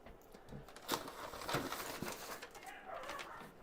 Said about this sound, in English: my dog is barking because it heard me move